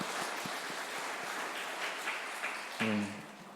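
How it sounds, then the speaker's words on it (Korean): Congregation applauding during a church's 50th anniversary Sunday worship service, a steady wash of clapping that continues throughout, with a brief spoken voice near the end. "마지막으로 하나님 앞에 영광의 박수 올려드리겠습니다"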